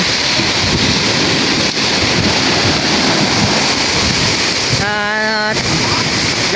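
Powerful sea waves crash continuously on a typhoon-battered coast, a loud, unbroken roar of surf mixed with gusting wind noise, with a brief tonal whine near the end.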